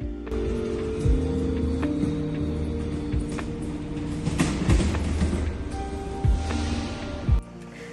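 Interior of a passenger train riding from Mainz toward Cologne, steady rolling rumble with periodic clicks of wheels over rail joints and occasional faint squeals, heard from inside the car without voices.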